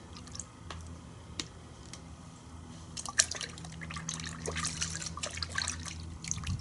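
Car shampoo drips and trickles from a shot glass into a bucket with small splashes, steady and close, no voices.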